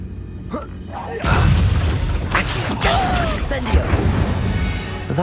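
An Incendio fire spell goes off in Hogwarts Legacy as a loud booming blast that erupts after a brief lead-in, followed by crackling bursts and voices talking.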